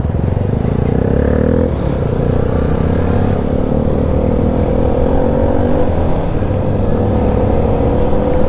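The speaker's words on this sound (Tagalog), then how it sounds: "Bali 5 kaming mga motor." Five motorcycles on a long-distance ride, some carrying passengers, give a loud continuous engine drone with shifting pitch from close by, no talking.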